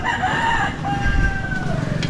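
A rooster crows loudly nearby with a long drawn-out call, followed by another crow overlapping, amid faint background bustle in El Nido, Palawan, Philippines.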